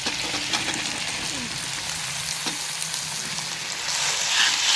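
Potatoes and elephant foot yam fry in a small wok, giving a steady crackling sizzle at close range that swells louder near the end, with faint voices in the background.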